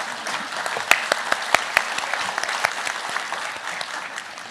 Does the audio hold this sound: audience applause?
yes